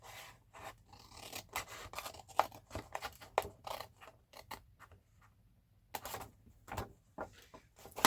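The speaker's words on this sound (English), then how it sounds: "And then I'm going to just cut this corner out completely." Scissors snip a corner off a sheet of paper in a series of close, crisp cuts and rustles, with short pauses between bursts of cutting.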